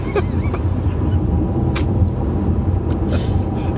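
Car travelling on autopilot along a road through a construction zone near Brainerd, giving a steady, close low rumble of engine and road noise that runs unbroken the whole time, with no talk over it.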